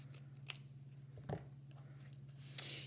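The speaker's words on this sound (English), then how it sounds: "I'm just going to cut off just barely, just a little teeny tiny piece" Scissors trim a tiny sliver off the edge of a paper treat box, making three quiet, crisp snips spaced apart over a steady low electrical hum.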